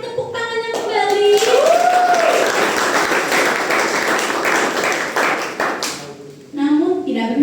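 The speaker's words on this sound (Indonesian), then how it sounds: "Boleh saya mendengar tepuk tangannya kembali?" Applause from a school seminar audience in a hall, a sustained burst of clapping lasting several seconds that fades out, with a voice talking over it at the start and end.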